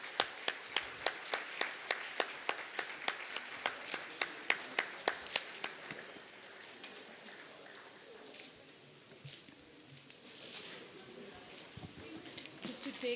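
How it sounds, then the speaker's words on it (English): Audience applause at a book launch event, a burst of claps from a crowd that thins into scattered clapping and then fades under a murmur of voices in the room. "A big round of applause,"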